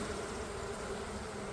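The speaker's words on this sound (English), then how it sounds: "Okay, so you have worker bees and you got nursery bees." Honey bees buzzing around an open beehive during a beekeeping inspection, a continuous dense hum from many insects close by, steady and without pause.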